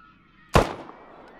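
A single sharp gunshot-like blast rings out in the video game Deadside, loud and close, with a short decaying tail fading over a quiet background.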